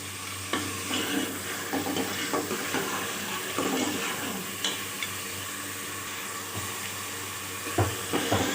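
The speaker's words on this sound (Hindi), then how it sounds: "अब इसको थोड़ा सा फ्राई करूँगी" Cumin seeds frying in a pan for a mixed vegetable dish of peas and carrots, a steady close sizzle with occasional stirring scrapes and clinks throughout.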